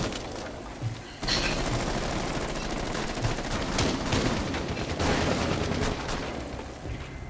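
Gunshots in the video game Rainbow Six Siege: a dense rattle of rapid fire begins abruptly after a quiet second and continues amid loud, noisy game action, with no speech.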